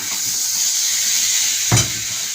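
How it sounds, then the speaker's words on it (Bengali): Turmeric, chili and cumin sizzle steadily in hot ghee with a constant close frying hiss, broken near the end by a single spoon stir or scrape against the pan. "আর এর মধ্যে হলুদ, লঙ্কা, জিরে দিলাম। তারপরে আরেকটু দেব এর মধ্যে ঘি।"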